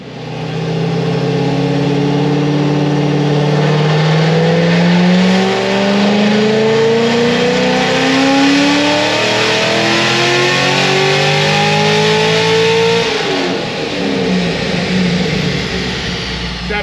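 Supercharged Corvette Grand Sport engine on a dyno, a loud close run rising steadily in pitch through a long wide-open pull before lifting off near the end, with a blower whine riding over the V8 roar.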